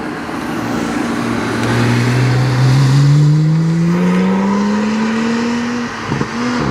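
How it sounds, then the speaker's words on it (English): A Porsche sports car roars past on a sprint course, its engine note rising steadily as it accelerates by, loud and close before fading slightly at the end. "Porsche comes through."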